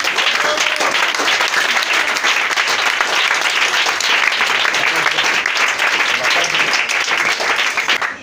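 A church congregation stands and applauds in loud, sustained clapping that fills the room evenly for several seconds before cutting off.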